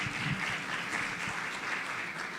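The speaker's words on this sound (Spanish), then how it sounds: "Un aplauso," An audience at a panel on corporations as allies in the fight for equality claps steadily for the whole stretch, a dense, even wash of applause heard close and fairly loud.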